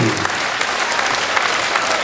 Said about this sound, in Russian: Дорогие друзья, ваши бурные аплодисменты.